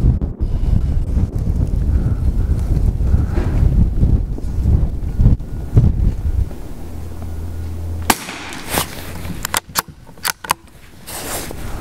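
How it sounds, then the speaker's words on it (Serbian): Gusty wind buffets the microphone with a heavy low rumble at an outdoor rifle range, then breaks into sharp, crackling bursts near the end. "Vetar."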